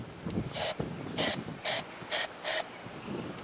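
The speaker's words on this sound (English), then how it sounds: "you spray a little bit of this one inside" Several short hissing bursts of an aerosol spray can sprayed inside a scooter handlebar grip, about five quick sprays in a row, close and fairly loud.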